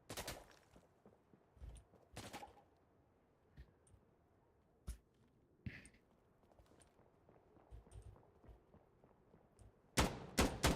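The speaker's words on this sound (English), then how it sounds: "That gunshot just got me." Gunfire in a video game comes as sharp, scattered cracks over a quiet background, with one early shot and a loud burst of rapid shots near the end.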